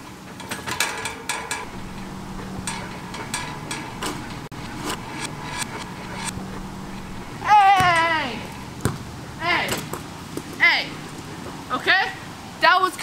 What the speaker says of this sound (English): it's already starting to rain harder